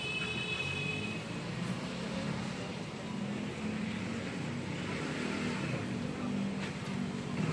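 Motor scooters pass along a busy Asian street, a steady engine drone with revving swells rising and falling amid traffic hum and faint background voices.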